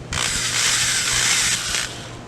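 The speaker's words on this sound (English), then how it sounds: "then we're going to pre-drill our holes" A power drill with a small bit pre-drills holes in wood, whirring steadily for about two seconds, close and loud, then winds down.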